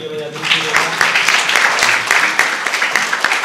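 Children applaud during a lesson on the six leshyas, a dense, fairly loud wash of clapping with individual sharp claps standing out, voices faintly present beneath.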